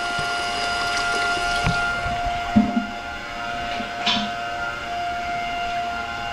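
Water and loose sediment flush out of an electric Rheem water heater's drain, a steady rushing flow with a few brief gurgling surges, moderately loud and continuous with no talk.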